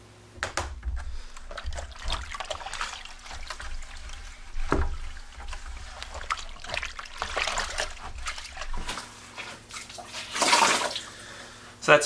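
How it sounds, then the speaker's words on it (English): Water trickling and splashing as a plastic hydroponics bucket is rinsed out, close and moderately loud, with uneven bursts of flow and a louder splash near the end; faint voice in the background. "I will rinse it out really well, and it should be ready for some new fresh water"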